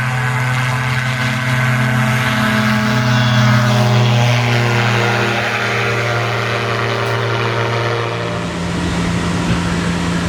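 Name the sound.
airplane taking off from runway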